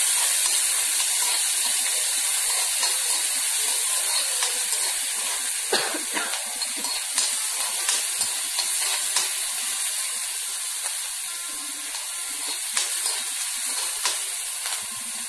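Ivy gourd (kovakka) for a Kerala-style thoran sautéing in a hot pan, giving a steady hiss and sizzle with scattered soft scrapes and taps throughout, close and fairly loud, with no talking.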